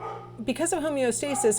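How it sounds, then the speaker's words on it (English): A pet dog barks in the background with several quick yips and barks, heard under a woman lecturing in a home setting. "sorry if you can hear my dog barking"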